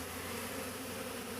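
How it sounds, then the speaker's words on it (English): A honeybee swarm buzzing close by, a dense and continuous drone of many wings that stays steady and fairly loud with no voices. "I can feel the buzz off of their wings"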